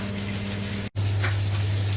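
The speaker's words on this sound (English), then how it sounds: "What she's doing is actually browning the meat as a starter." Pork browning in a pan, a steady soft sizzle with a low hum underneath and a sharp momentary break partway through.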